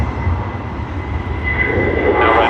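Virgin airliner departing from Sydney Airport, a steady low jet engine rumble and roar that grows slightly louder toward the end.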